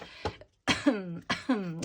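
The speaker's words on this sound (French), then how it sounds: "Ça me fait tousser." A few short, close coughs and throat-clearing bursts, separated by brief pauses, with no speech.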